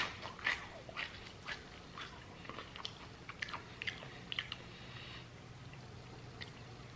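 Crunchy freeze-dried astronaut food raisins being chewed, a series of quiet, irregular crisp crunches close to the mouth with no talking.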